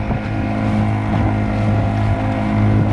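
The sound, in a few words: Kayak Buddy Version 3 motor on a Nucanoe Pursuit kayak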